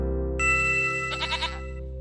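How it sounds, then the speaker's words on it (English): A single goat bleat from a children's preschool learning game, a short wavering cry over a steady tonal musical background, close and clear. "This is a goat"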